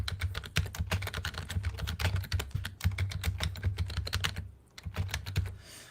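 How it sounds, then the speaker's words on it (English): Fingers type rapidly on a computer keyboard, a dense run of close, crisp key clicks that pauses briefly before a few more taps, with no talking. "I've just got to finish typing it."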